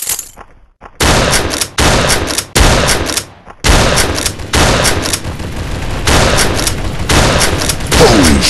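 Gunfire in the blocky online shooter game Block Gun FPS: loud, rapid bursts of automatic fire with short gaps between them, close and alone.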